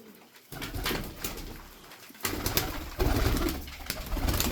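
Turkish tumbler pigeons coo in low, throaty, repeated murmurs, close by, with several birds overlapping and some faint rustling.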